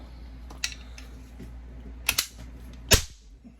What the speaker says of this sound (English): you shouldn't dry fire these too much